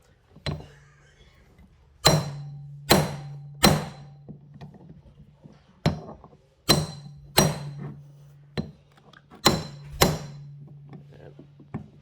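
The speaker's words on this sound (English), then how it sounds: "I'm going to use a hammer drive" Sharp metallic hammer blows striking a hand impact driver during an engine rebuild on a 1998 Yamaha Warrior 350 ATV, about ten single hits in irregular groups, close and ringing, with quiet pauses between them.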